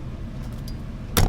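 Loose keys jangling at the back of a truck pulling a trailer on the road, a brief bright metallic rattle near the end over steady low vehicle rumble.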